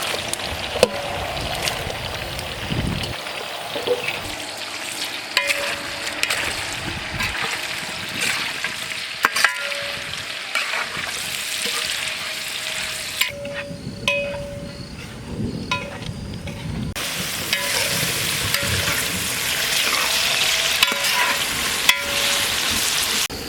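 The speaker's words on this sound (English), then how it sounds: "Now we add sliced onions." Sliced onions fry for a Kerala-style chicken curry, sizzling loudly and continuously in hot oil, with scraping and stirring sounds close by throughout.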